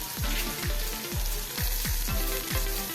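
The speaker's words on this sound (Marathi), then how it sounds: "कांदा आपण थोडासा भाजून घेऊया" Onion frying in a pan while making Indori steamed poha, a steady close sizzle broken by a regular series of low thumps from stirring against the pan, with no talk.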